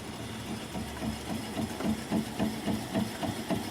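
A wood lathe slowed to about 200 RPM turns a live-edge plum bowl, giving a low steady hum with a rhythmic thumping pulse from the spinning uneven blank, moderately loud and close.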